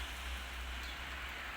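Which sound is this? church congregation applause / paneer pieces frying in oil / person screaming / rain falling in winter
rain falling in winter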